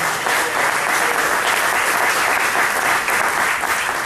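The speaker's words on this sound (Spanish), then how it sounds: "Den un aplauso a esas mujeres" A church congregation applauds during a sermon, giving dense, sustained clapping from a large crowd that is loud and steady throughout, with no voice over it.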